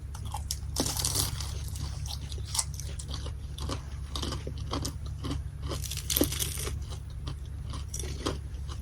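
Close, repeated crisp crunches and chewing of freshly fried crispy turon, a banana roll, in an irregular biting rhythm throughout, without talk.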